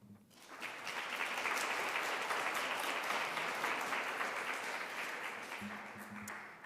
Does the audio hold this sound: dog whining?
no